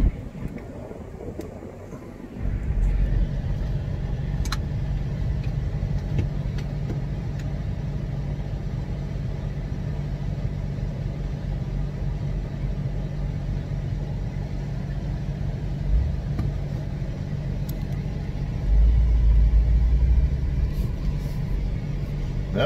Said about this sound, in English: Pull around this side street. Let's see how the four-wheel low works.